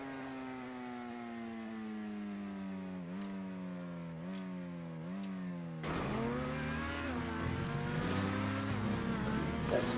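A race car engine in GTA Online revs in long rising and falling pitch sweeps, held high and loud, then bursts into a harsher, busier roar with no talking.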